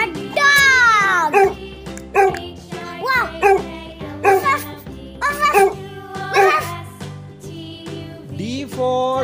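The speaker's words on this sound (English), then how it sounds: "D for dog." A dog barks in a run of repeated bow-wow yelps with whimpering pitch sweeps, loud and close, alongside a synthetic musical backing.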